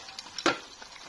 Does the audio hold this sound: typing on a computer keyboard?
no